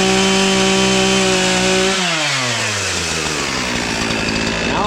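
Chainsaw carving a wooden block, its engine howling loud and close with a steady high whine that drops in pitch as the chain bogs into the cut, continuous for the whole stretch with no talk.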